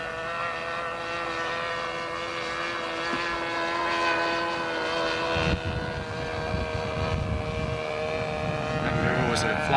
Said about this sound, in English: Here comes the airplane in for its first maneuver.